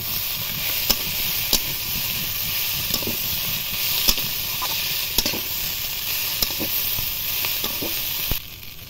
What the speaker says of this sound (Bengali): এবার আদা রসুন জিরে একসাথে পেস্ট করে দিয়ে দেব। দিয়ে আবার একটু কষিয়ে নেব